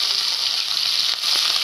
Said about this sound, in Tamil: இப்போ இதில் நம்ம வந்து கருவேப்பில போட்டுக்கலாம்.